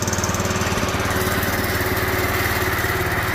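A propane-converted lawn tractor engine on a go-kart runs loud and close with a steady rapid chugging throb.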